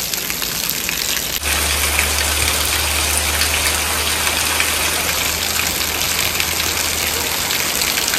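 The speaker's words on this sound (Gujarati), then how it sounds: "મસ્ત મજાનો ને તેની દારે વરસાદ ચાલુ છે." Steady rain pours down in a village near Botad, Gujarat, on a windless day, a dense continuous hiss that stays loud throughout, with a low hum joining in after the first second or so.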